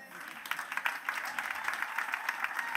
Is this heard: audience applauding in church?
yes